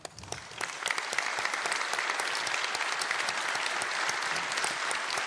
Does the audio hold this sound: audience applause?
yes